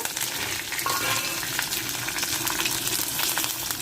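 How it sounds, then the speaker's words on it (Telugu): Cumin, mustard seeds, urad dal and chana dal sizzle and crackle in hot oil, a dense steady frying hiss up close, with occasional stirring and no voices. "పోపులు వేగాలి"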